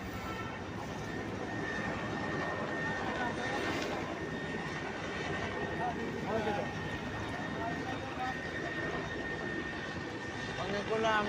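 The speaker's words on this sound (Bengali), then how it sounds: "আর্মির এই যে হেলিকপ্টার মনে হয় প্রদর্শন করতেছে" An army helicopter flies over a flooded town area in Sylhet, its engine a steady droning roar that holds throughout at moderate distance.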